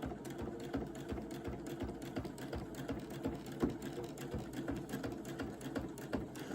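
A sewing machine stitches a fabric bucket hat, giving a fast, steady mechanical chatter of needle strokes up close at moderate volume, running continuously with no talking.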